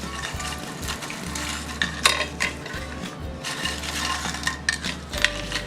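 Fried homemade nachos being scooped out of hot oil onto a plate, with light scraping and clinking of a utensil against cookware over a faint sizzle and a steady low hum.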